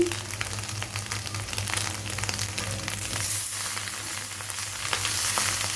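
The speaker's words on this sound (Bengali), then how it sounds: "ডিমটাকে আমি একটু ভালো করে ভেজে নিচ্ছি।" Three eggs and noodles frying in a pan for egg noodles, giving a steady close sizzle with crackling texture and a low hum underneath, continuous throughout.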